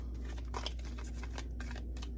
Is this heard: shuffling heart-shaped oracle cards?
yes